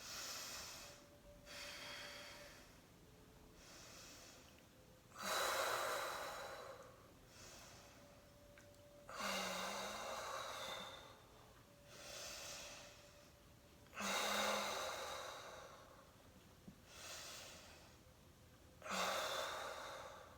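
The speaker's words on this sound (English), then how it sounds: "just long, deep breathing" Long, deep yogic breaths during a Kundalini yoga session for anger, slow and measured, with airy exhales swelling roughly every four to five seconds at a quiet, close level.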